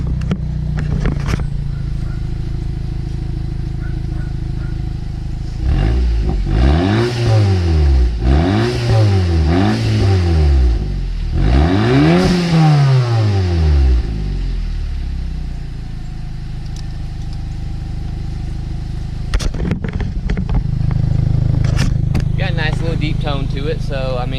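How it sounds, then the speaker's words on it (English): A car engine with a 3-inch catback exhaust revs repeatedly on a cold start, rising and falling in several throaty bursts from a deep idle, with a person talking before and after. "let's get a few revs and we'll get this thing off the trailer"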